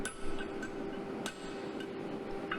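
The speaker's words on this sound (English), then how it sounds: "as I told you that the weight of the hammer is 15 kg, so there is a specific technique" A heavy 15 kg blacksmith hammer strikes a hot workpiece in a smithy, sharp metallic clangs with a ringing tone, a few spaced blows over steady workshop hum.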